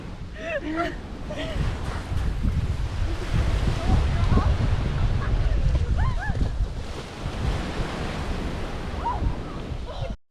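Ocean waves wash onto Iso Beach on Yakushima Island in a steady rumbling roar, with wind buffeting the microphone and people talking nearby.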